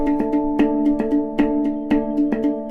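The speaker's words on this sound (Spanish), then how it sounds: "a una canción de rock, pero interpretada con un steel drums que suena así" A rock song played on steel drums, with bright, ringing metallic tones struck in a steady rhythm and sustained overlapping harmonics, loud and close with no voices.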